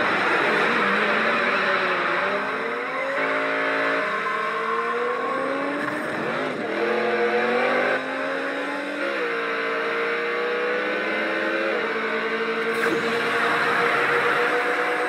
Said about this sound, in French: C'est des courses de voitures qui se font dans les villes